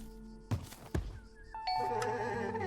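In Minecraft, a sniffer digs up a pitcher pod and a little bell chime rings out, a bright sustained tone with soft ringing overtones that starts after a couple of earlier low thumps and rustles.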